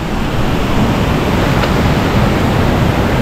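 Jembong waterfall in Bali pours with a steady, loud, hissing rush of falling water that fills the whole scene without a break.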